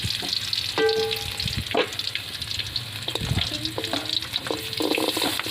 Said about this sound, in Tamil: இஞ்சி பூண்டு நம்ம தட்டி வச்சதை போட்டுக்கலாம் மக்கள். 3ஐயும் சேர்த்து கிளறி விட்டுடலாம்.